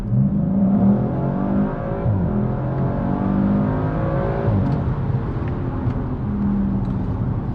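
A 2019 Audi RS5 Sportback engine revs steadily upward to about 6,500 rpm, its rising harmonic whine loud and sustained throughout with no talking.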